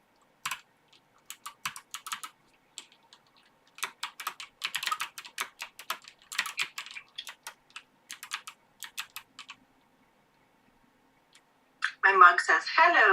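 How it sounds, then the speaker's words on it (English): Rapid typing on a computer keyboard, bursts of soft clicky keystrokes at close range with short pauses between runs, ending in a louder scrape or rustle. "I'm typing that in for my people"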